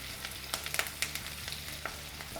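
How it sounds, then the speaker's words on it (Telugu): Dried red chillies and green chillies frying in oil, a quiet steady sizzle with scattered small crackles and pops, no voice. "ఎండుమిరపకాయలు ఇవి మంచిగా వేగనివ్వాలి"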